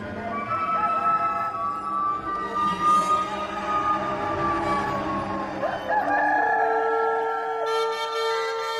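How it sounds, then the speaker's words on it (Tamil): A rooster crows in long, drawn-out calls, close and clear, with other fowl sounds and a faint background hum. "உடனே சேவல் கூவிற்று"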